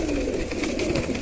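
Pigeons in a loft coo softly and continuously, a low warbling murmur from several birds close by.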